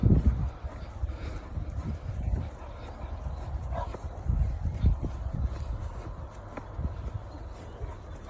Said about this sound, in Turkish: Her tarafta köpek var arkadaş.